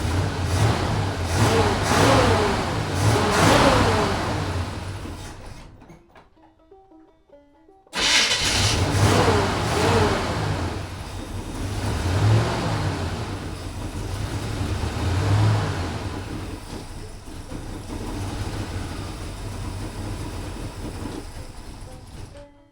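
Hot rod engine revving after a timing adjustment, loud and close, surging through several throttle blips. It cuts out briefly, then starts again and settles into a rough, rising and falling idle.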